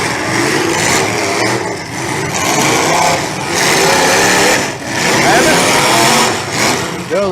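Demolition derby car engines rev hard and roar continuously at close range, the loud mechanical drone rising and dipping with the throttle while a voice talks over it throughout.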